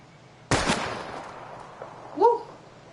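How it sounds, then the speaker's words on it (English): A single sharp gunshot in Life Is Strange as a pistol fires at a row of bottles, loud and close, followed by a decaying echo and then a brief high-pitched tonal cue. "We're gonna shoot all these bottles without wasting a single bullet."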